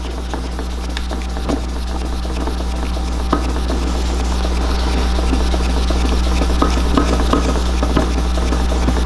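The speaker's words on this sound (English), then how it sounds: "now we're going to use the sanding pad" A 3000-grit sanding pad is rubbed wet across a part during restoration of a Honda CBX motorcycle, producing a steady, soft scrubbing rasp over a constant low electrical hum, with no talk.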